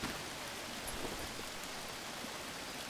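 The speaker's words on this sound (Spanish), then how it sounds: "Está lloviendo." Steady rain falls in the jungle survival game Green Hell, a soft, even wash of broadband patter with no breaks, fairly quiet and uninterrupted throughout.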